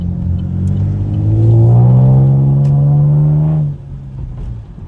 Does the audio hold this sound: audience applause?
no